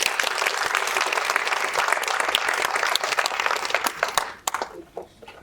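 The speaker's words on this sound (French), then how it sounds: "Il faut les applaudir très fort." A crowd applauds loudly and steadily, then the clapping thins out into a few scattered claps and fades.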